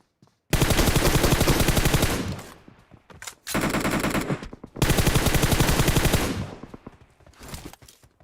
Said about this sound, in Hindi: यहाँ पे मैं गोलियां बर्बाद करते हुए सीधा आगे रस कर देता हूँ।